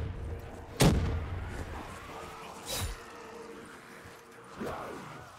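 Three separate booming blasts in Call of Duty: Black Ops 3 Zombies, one sharp and loud, then two softer ones spaced a couple of seconds apart over low background rumble.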